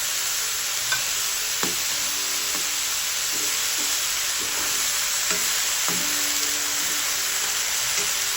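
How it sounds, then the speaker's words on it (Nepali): Green chillies frying in hot oil for a Nepali potato curry: a loud, steady hiss of sizzling fills the whole stretch, with occasional soft clicks of a spoon stirring in the pan. "मैले खोर्सानी राख्ने,"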